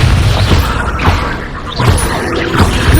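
A Bombarda explosion spell in Hogwarts Legacy lands with heavy, rumbling low-end booms and crunchy debris, loud and close, with surges near the start and again after a brief dip.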